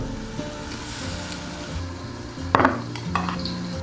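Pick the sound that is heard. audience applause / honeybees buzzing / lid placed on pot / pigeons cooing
lid placed on pot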